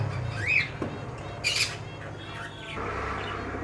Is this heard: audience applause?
no